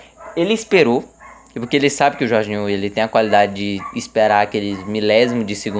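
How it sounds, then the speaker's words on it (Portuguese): A dog barks and yips intermittently in the background of a room while someone talks continuously in Portuguese about a football match, the barking partly masked by his voice. "Desculpa se você estiver ouvindo um som de cachorro latindo."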